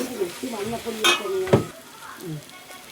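Clams sizzling in a pan as chilli powder and ginger are stirred in, giving a steady close frying hiss with a few sharp scrapes of a spoon against the pan.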